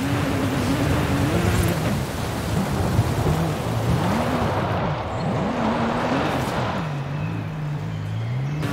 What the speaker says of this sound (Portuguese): E tá chovendo, pesado